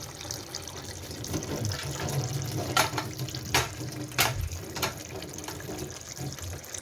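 Water drains out of a water cooler being cleaned, a soft continuous trickle and splash with several sharp clicks or knocks in the middle, faint and close.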